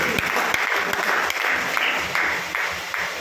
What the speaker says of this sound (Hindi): अपने लिए जोरदार तालियां बजा लीजिए